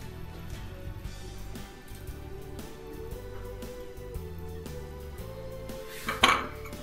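Fried vegetable sauté is tipped from a pan into a pot of borscht in a home kitchen, giving a short clatter of metal cookware and utensils near the end, with steady kitchen background noise and no talk.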